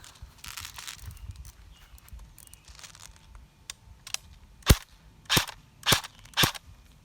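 A Cyma AKS74U airsoft gun fires .28 BBs from a separate magazine: four sharp, snappy shots land in the second half, spaced about half a second apart, after some handling noise.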